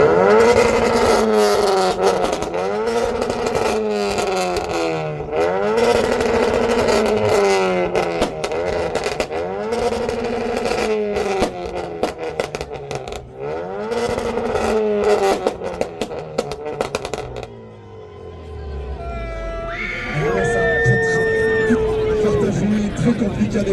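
A Honda Civic engine revs hard at a lively car show event. It climbs and drops repeatedly in loud rising sweeps and then settles into a lower idle, with crowd noise and voices underneath.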